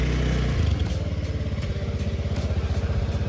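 A motorcycle engine idles close by, its low rhythmic putter steady and loud, with a slight rev near the start.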